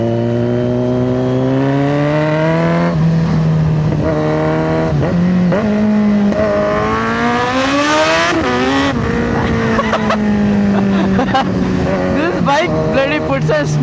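A Kawasaki Z900 motorcycle engine revs loudly and accelerates close by, its pitch climbing through gears with brief dips at shifts, a continuous roaring run lasting many seconds.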